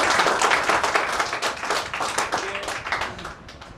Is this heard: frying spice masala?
no